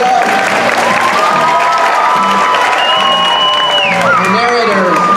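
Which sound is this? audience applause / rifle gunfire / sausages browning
audience applause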